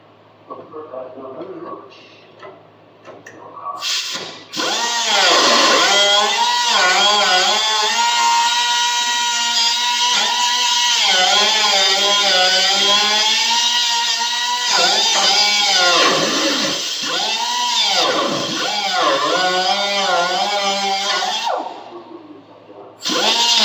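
A Sawzall reciprocating saw cutting during a trailer step install, starting after a short pause and then running loudly and continuously for most of the stretch, its whining pitch rising and falling with the strokes before it stops at the end.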